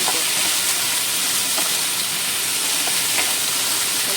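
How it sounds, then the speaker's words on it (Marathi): Potatoes frying in a pan for a Goan green peas bhaji, giving a steady, loud broadband sizzle and hiss throughout with a few faint clicks, no talking. "हांव हे पोटेटोज उडयता आनी मातशें अशें करून फ्राय कोत"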